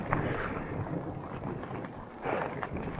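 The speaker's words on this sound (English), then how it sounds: "it's already raining again." Rain falls while trekking in the Nepal Himalayas, a soft, steady patter mixed with gusty wind buffeting the microphone, moderately quiet and without speech.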